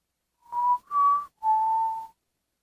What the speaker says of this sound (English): he began to whistle, and someone whistled back.